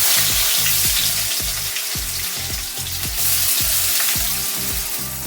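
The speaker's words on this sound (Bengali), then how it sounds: "এবারে পেঁয়াজটা দেবো" Onions fry in hot oil spiced with whole garam masala for a meat-style aloo dum, a loud continuous sizzle close by, with no talking.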